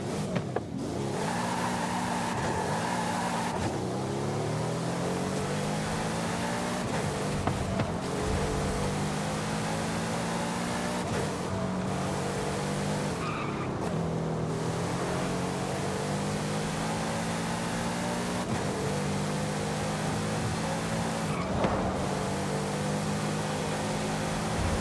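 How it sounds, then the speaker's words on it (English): A turbocharged Lamborghini V12 in Forza Horizon 5 revs and pulls through repeated gear changes, its muffled engine note climbing and dropping in pitch over and over, loud and continuous. "those turbos really muffle the V12 sound"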